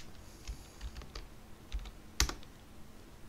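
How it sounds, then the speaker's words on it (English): Typing on a computer keyboard: scattered light key clicks at an uneven pace, one sharper louder keystroke near the end, close and quiet with no voices. "you can type"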